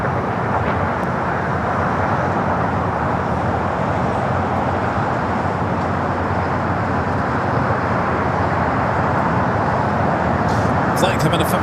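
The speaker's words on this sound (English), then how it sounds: "Flight coming in from Atlanta, flight 501, touching down there on 24 right." An airliner arriving from Atlanta as flight 501 touches down on runway 24 right at LAX, with a steady, loud, broadband jet roar that holds through the whole stretch.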